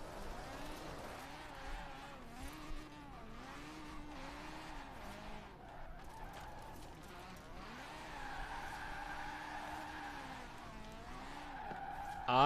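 A low-horsepower car drifts in a driving video game, its tires squealing in long wavering skids over a steady engine drone that rises and falls through the turns, with a voice talking faintly underneath.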